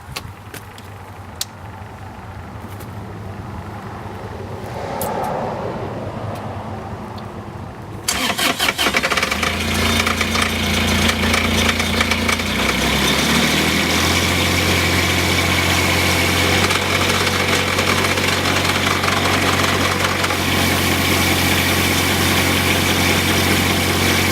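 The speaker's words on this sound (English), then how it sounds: "So I'll fire up the engine." A fire truck engine cranks and catches at about eight seconds, then settles into a loud, steady idle with a low drone that holds to the end.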